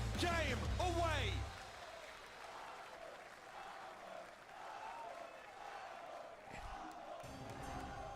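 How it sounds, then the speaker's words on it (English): A large arena crowd roars and applauds at the Brawl Stars esports world finals, a loud burst up front settling into a sustained, distant cheering wash while a caster talks over it. "The crowd is electric."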